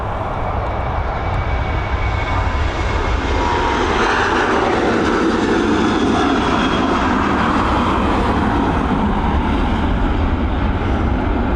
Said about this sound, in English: Norwegian, and now on departure.